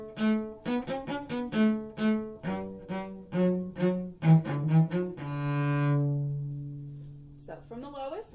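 Cello on its high strings: a quick run of short, bowed notes climbing in an even rhythm, ending in a long sustained tone that fades, solo and close, with a faint voice starting at the end.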